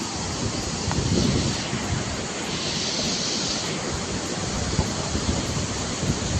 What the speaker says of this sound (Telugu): వాటర్ ఫ్లో చూడండి ఎంత హెవీగా ఉందో